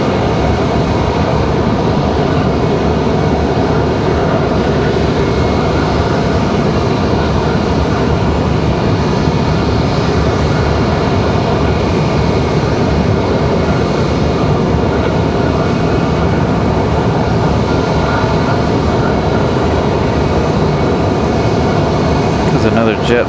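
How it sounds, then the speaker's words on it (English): An Alaska Airlines airliner taxis out from the terminal at Raleigh-Durham airport, its engines giving a steady, broad roar that holds loud and constant throughout, with voices talking faintly under it. "Alaska making their way out from Terminal 1."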